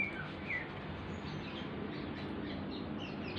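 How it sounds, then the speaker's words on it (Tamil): Small birds chirp and tweet in short scattered calls, fairly faint over a steady outdoor hiss, with a few sharper notes early on. "அணில், காக்கா, குருவி, என்ன ஒரு அழகான சவுண்டு."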